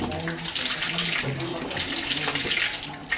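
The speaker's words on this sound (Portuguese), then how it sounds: "Lavar os olhos, a cabeça, os braços." Running water splashes steadily as a man washes his eyes, head and arms outdoors during a pilgrimage, a continuous gushing close to the listener while a voice talks faintly underneath.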